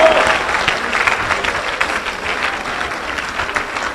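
Continuous applause from a church congregation, a dense crowd clapping steadily at close range for the whole stretch, with scattered cheers mixed in and no single voice standing out.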